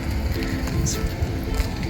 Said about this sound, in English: you get steam from these vents that come right up out of here